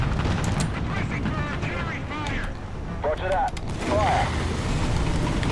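An artillery strike in the War Thunder tank game plays out as a dense, continuous battle din of rumbling blasts and crackling gunfire, with someone talking over it.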